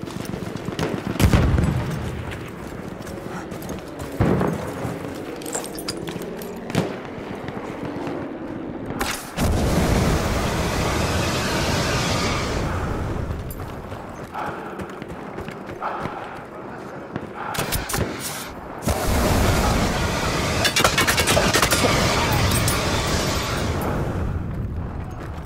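Battlefield 1 battle sounds with booming explosions, rattling gunfire and heavy impacts layered over dense, constant combat noise, loud and continuous through the clip.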